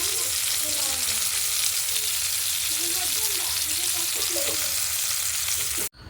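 Fish pieces fry steadily in a pan, a dense continuous sizzle with crackling spatter and faint scraping as they are turned, ending abruptly.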